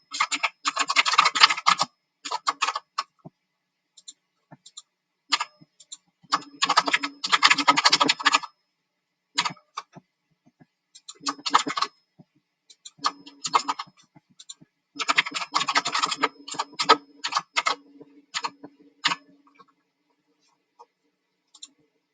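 Bursts of rapid clicking keystrokes on a computer keyboard during a competitive programming contest, fast flurries separated by short pauses, close and clear with no talking.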